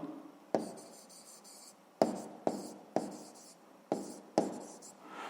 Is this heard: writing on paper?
yes